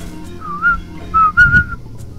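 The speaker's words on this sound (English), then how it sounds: "I'm whistling right now" A person whistles a short, wavering tune in a few separate bursts, close to the microphone, with breathy pauses between the notes.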